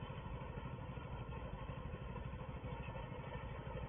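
A small horse tractor engine rolls barley on Maypole Farm, a steady, close, rough mechanical drone with a fast regular chug, constant and alone without talk.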